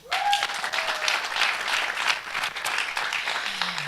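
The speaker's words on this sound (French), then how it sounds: "je pensais que ça allait être accompagné des applaudissements" Audience applause at an acoustic music showcase, a dense steady wash of many hands clapping throughout, fairly close and loud, with a brief whistle near the start.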